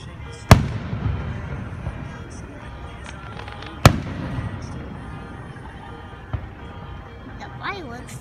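Two sharp loud bangs of July 4th fireworks several seconds apart, followed by a fainter pop, over a crowd's murmuring voices and talk.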